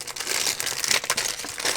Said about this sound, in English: All of these plastic bags